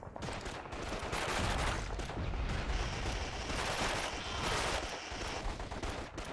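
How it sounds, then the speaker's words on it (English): Sustained machine gun fire and dense gunfire crackle in World War II shooter Call of Duty 2 Big Red 1, loud bursts overlapping continuously with battlefield noise and no talking. "Suppress that machine gun!"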